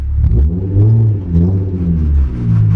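A car engine revs hard while drifting, a loud, close, continuous roar that rises and falls in pitch with no talking.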